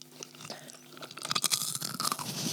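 Golden Gaytime ice cream flavoured popcorn crunched close to the mic, a few soft bites and then a dense burst of loud, crackling chewing.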